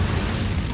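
An Incendio fire spell bursts in Hogwarts Legacy, a loud, continuous low booming blast that fills the whole short moment with no pauses.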